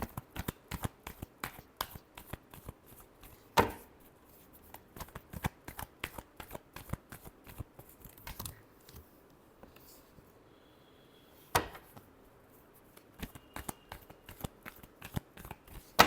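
Tarot cards are shuffled by hand in a long series of quick, crisp riffles and taps, close and fairly quiet, with a couple of louder snaps.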